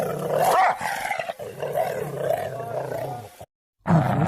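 A dog growls and snarls as a horror-story sound effect, a low rough rumble running for several seconds under and between a narrator's speech, with a brief cut to silence near the end.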